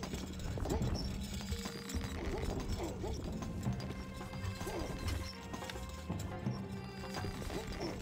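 Hoofbeats of a galloping horse in the strategy game Stronghold: Crusader sound under a busy battle mix of clashing and crashing effects, with a voice speaking briefly over the steady din.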